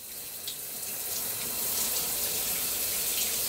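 Steady rushing water runs continuously like a shower spray, a broad hiss that swells slightly louder partway through, with no voices.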